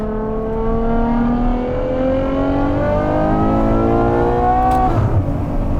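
Ferrari Purosangue with a 6.5-litre naturally aspirated V12 and Novitec exhaust revving hard and loud up close, its pitch climbing steadily before easing off near the end.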